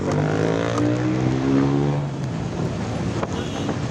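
A motorcycle engine drones steadily up close, its tone shifting as it rides along, with a voice talking faintly over the engine noise.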